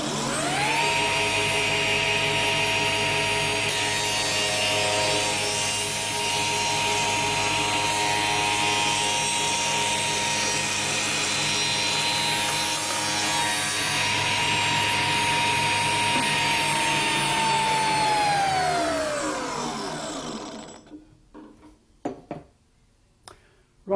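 A spindle moulder cuts a groove in a wooden board, a loud sustained high-pitched whine with steady tone that drops away as the machine spins down near the end, leaving faint clicks.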